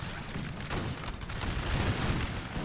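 Artillery fire in a Napoleonic Total War 3 battle rolls on as dense, continuous booming volleys, a rough, rumbling barrage with no pauses and nothing else standing out.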